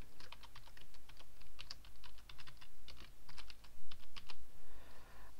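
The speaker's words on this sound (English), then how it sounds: "Simply type in your title." Keys clatter on a computer keyboard as a title is typed in, quick clustered bursts of close, crisp clicks with brief pauses between words and no talking.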